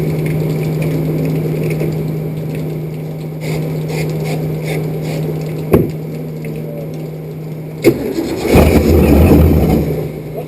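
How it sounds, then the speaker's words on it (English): A car engine being brought to life with starter spray in the carburetor, including work done after a windshield install, gives a steady low running drone broken by sharp mechanical clacks, then a louder rough burst near the end. "I got engine start."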